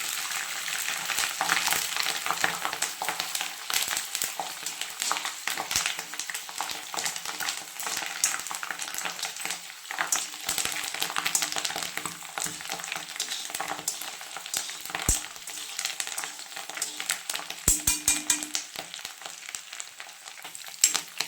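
Drumstick leaves fry in melting butter as it is cooked down into ghee, giving a steady crackling sizzle with irregular pops and occasional stirring clinks of a utensil against the pan.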